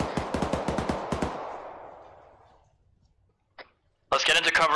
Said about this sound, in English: those gunshots were coming directly over the hill from the southwest